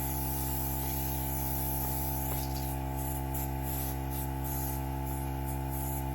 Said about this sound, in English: I'm gonna go ahead and spray that.